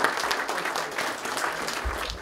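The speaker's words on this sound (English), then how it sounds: "Let's thank a round of applause for the hosts" A political gathering at a historic mansion breaks into brief, steady applause for the hosts, with crowd claps close and even throughout.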